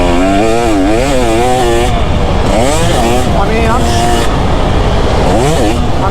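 A 2024 KTM 250 SX two-stroke dirt bike revs up and down in rising and falling sweeps while riding, loud and close, as a rider talks over the engine.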